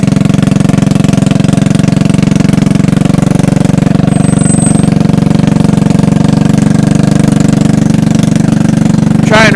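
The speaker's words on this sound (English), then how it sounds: "See if the electric start will work now." An old Verona three-wheeler engine running after an electric start, a loud, steady, close mechanical drone with a constant rhythmic pulse throughout.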